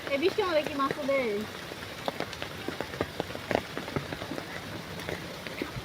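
Rain patters steadily on surfaces outdoors during net fishing, a dense crackle of drops with sharper individual hits, with a person speaking briefly over it at the start.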